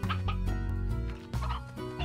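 Chickens clucking in the Slime Rancher video game, a busy run of short squawks and clucks over a rumbling background, loud and close.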